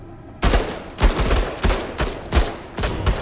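Rapid bursts of gunfire in the video game Menace, several loud volleys in quick succession, up close and without talk.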